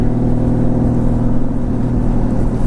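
Honda Valkyrie motorcycle engine running at a steady, loud idle, a deep continuous rumble with even low throb and no revving, heard alone without talk.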